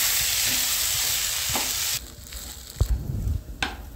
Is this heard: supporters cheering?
no